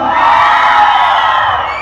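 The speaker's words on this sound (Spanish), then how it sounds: "¿Cómo grita la gente de este lado?" A concert crowd at a DJ event in San Felipe Zihualtepec, Oaxaca, roars with loud, sustained shouting and cheering, one continuous burst of voices up close.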